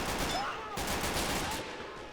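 Dense battle gunfire from a World War II video game, a steady rattle of rifle and machine-gun shots with scattered bursts over continuous loud combat noise, no one speaking.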